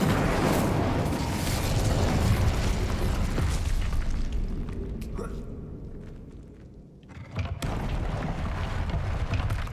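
An Incendio fire spell is cast in Hogwarts Legacy, giving broad rumbling bursts over steady game ambience, with a sharp pop and whoosh late on.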